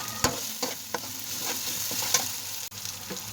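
Ginger garlic paste frying in oil for lauki kofte masala, a continuous sizzle with several sharp spoon or spatula scrapes and taps against the pan, close and moderately loud.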